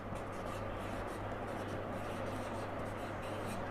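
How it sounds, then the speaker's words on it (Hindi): A marker scratches and rubs across a board as the word earthquake is written, a soft continuous scraping heard close up beneath a speaking voice. "तो हम अभी अर्थक्वेक को लिख लेते हैं यहाँ पे"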